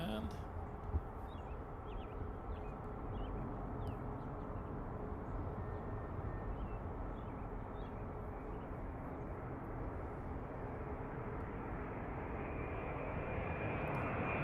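A Delta jet airliner arrives in an evening plane-spotting session, its engines a steady broad roar close by and unchanging throughout, with people talking faintly underneath.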